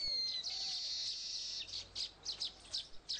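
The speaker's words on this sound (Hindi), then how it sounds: "तब कुछ फुर्सत के पल निकालकर समूह में जोरदार आवाज में गान करते हैं।" Weaver birds chirp and twitter in a group, bright high-pitched calls coming in quick bursts, close and clear against quiet surroundings.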